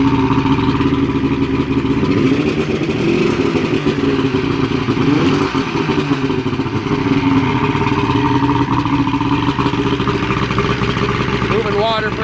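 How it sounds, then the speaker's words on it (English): A 70hp Johnson outboard on a 1973 Holiday bass boat runs steadily at close range, a loud continuous buzzing drone with clattery mechanical texture and no letup throughout. "Let's start with the motor"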